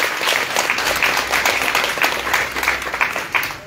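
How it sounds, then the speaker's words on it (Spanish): Audience applauding a donor at a home food-giving gathering in Mexico, steady dense clapping that holds for several seconds at moderate volume with no voices over it. "Un aplauso para él."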